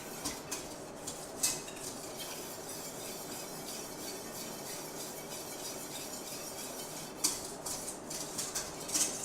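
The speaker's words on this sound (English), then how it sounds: "So I'm gonna whisk this until it's smooth, and then I'll add the rest of the milk." Whisk scraping and clinking in a pot of cheese sauce, a faint steady stirring texture with occasional sharper metallic taps.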